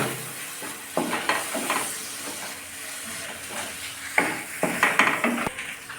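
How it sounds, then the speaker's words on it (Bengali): Spice paste with red chilli and a splash of water cooks in a pan for pointed gourd with poppy seed, giving a steady hiss with scattered louder sizzling bursts and stirring scrapes. "মশলাটাকে ভালোভাবে কষিয়ে নিব"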